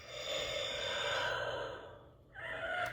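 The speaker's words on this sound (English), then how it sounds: "he does the strained breathing regardless of the cap that's on it" Black Series Darth Vader helmet, modded, plays its strained breathing effect: a long, hissing mechanical inhale that swells and fades, a short pause, then the next breath starts, loud and close.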